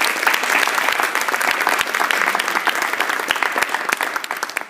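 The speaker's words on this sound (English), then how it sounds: "please, everyone, give our Honor Society members an applause for their outstanding efforts" Sustained applause from an audience at a high school National Honor Society induction ceremony, dense, steady clapping throughout with no talking.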